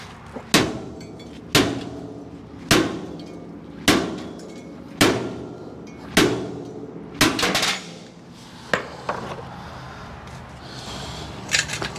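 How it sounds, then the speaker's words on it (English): Heavy, evenly spaced strikes of a big hammer on a trailer jack mount ring out about once a second, metallic and loud, tapering into lighter clanks near the end. "we get the big hammer."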